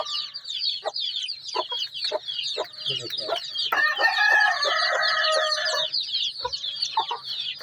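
Chicks peep constantly in high, busy chirps while a hen clucks in short bursts, and a rooster crows partway through.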